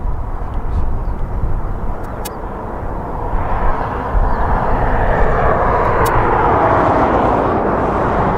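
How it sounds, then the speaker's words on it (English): A fixed-wing airplane passes near an airport, its broad engine roar steady and fairly loud throughout, with no talk heard. "Don't worry, we will get that aircraft."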